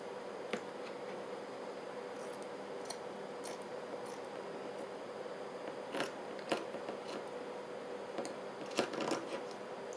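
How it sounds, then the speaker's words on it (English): Scattered snips of the wrong scissors cutting paper for journal decorating, quiet and close, occurring irregularly over a faint steady background hum. "No wonder it's hard to cut, using the wrong scissors."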